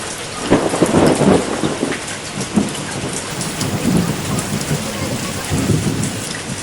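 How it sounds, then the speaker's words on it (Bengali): Heavy rain pours over a village in a thunderstorm, a loud, constant hiss of drops on surfaces with deep rolls of thunder swelling beneath it. "এভাবে প্রায় এক ঘন্টা হয়ে গেল বৃষ্টি কিছুতেই কমছে না"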